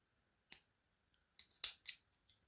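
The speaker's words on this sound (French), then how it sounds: "J'ai toujours mon rembourrage qui sort ici. Tant pis, je vais l'enlever. Allez, on va le couper." Scissors snip through stuffing poking out of a crocheted doll's head, three or four quick sharp cuts close by with short pauses between, no talking.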